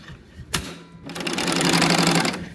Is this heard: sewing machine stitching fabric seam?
yes